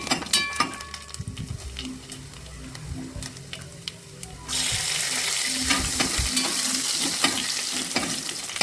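Cashews and raisins frying in oil with coconut pieces in a pan for Kerala ada pradhaman, a steady close sizzle that swells louder halfway through, with occasional stirring scrapes and clinks.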